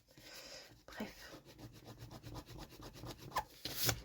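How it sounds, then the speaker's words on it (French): A rubber eraser scrubs pencil marks off paper in quick back-and-forth strokes, a faint close rubbing texture with light scratchy catches and occasional soft background sound. "je vais essayer de gommer un peu mes bêtises"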